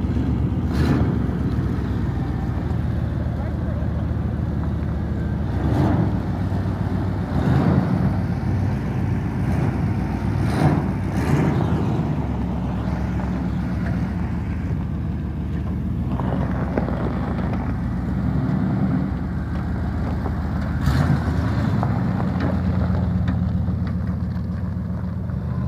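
A 1991 Chevy Silverado 2500 with a 350 V8 idles steadily after a cold start, a continuous low rumble close by with light wind buffeting and a few brief clatters.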